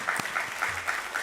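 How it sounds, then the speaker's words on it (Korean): Congregation applause during a Korean Sunday church worship service, an even, fairly faint wash of many hands clapping in a hall, steady without breaks. "우리 하나님께 감사와 영광의 박수 올려드리겠습니다"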